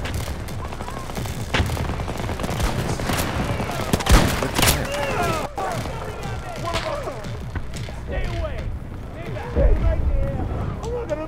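Rapid bursts of gunfire from the shooter game Battlefield 2042, sharp close shots and automatic fire cracking repeatedly under frequent talking from players.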